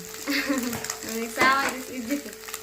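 An egg fries in a pan for a leftover-rice dish, a soft continuous sizzle broken by scraping and stirring clatter from a utensil, with a voice murmuring faintly in the background.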